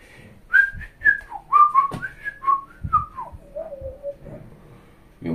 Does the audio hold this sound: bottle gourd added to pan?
no